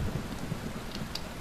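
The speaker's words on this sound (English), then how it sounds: "oh, it's rainy." Rain falls steadily in the Bastion video game, a dense even wash with low rumbling underneath, no speech over it.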